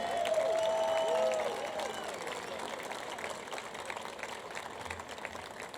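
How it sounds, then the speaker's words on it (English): Steady applause from an audience, fairly loud at first and then easing off to a lighter, continuing patter of clapping. "let's give them a big round of applause"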